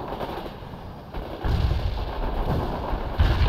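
Rocket artillery fires in the video game World in Conflict, a rolling series of deep booms and rumbles building over a few seconds, with heavier blasts near the end and no voices over the battle.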